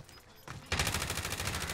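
Gunfire in the video game Warzone, a GRAU 5.56 rifle in Modern Warfare, with a single report followed by a rapid automatic burst of closely spaced shots of moderate loudness.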